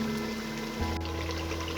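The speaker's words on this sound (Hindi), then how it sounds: "पानी मैं आपको दिखा देती हूँ कि इस तरह से थोड़ा सा पानी ऐड करें" Water splashes into a pan of frying mutton masala for aloo gosht, a brief steady pouring hiss that shifts in tone partway through.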